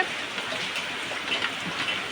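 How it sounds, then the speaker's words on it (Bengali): Steady, dense rainfall hisses continuously, a heavy even downpour with no other sounds standing out. "এখন দেখো কত জোরে জোরে বৃষ্টি পড়ছে"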